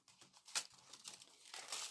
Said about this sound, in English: we're going to cut out the